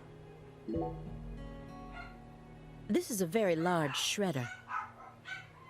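Dogs bark and yip in the background, a burst of sharp, excited barks midway, while someone talks over them.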